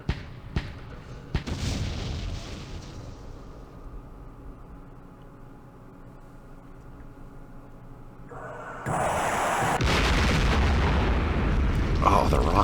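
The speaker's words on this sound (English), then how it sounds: "Oh, the rockets." In a Vietnam war strategy game set at the 1968 Battle of Pleiku, rocket explosions hit as a few sharp booms, then a long low rumble before a loud, sustained roar of blasts and fire.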